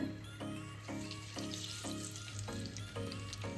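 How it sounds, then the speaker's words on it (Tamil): Curry leaves bubbling in hot oil over medium heat for an Indian fish fry, a soft steady sizzle with faint rhythmic clinks, fairly quiet and close, no voices. "இது பாருங்க, பபுள் லைட்டாக ஸ்டார்ட் ஆகுதா. இது வந்து மீடியம் ஹீட்டில் இருக்குது."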